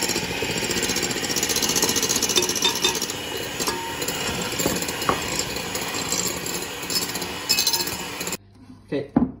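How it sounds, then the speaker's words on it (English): Cloud bread mixture whisked in a bowl, likely with an electric whisk: a steady mechanical whirring and rattling close by that runs continuously and then cuts off near the end. "And continue whisking."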